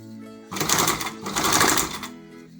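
Sewing machine stitching a homemade fabric face mask, a loud steady whirring run in two bursts with a brief pause between, quieter hum before and after.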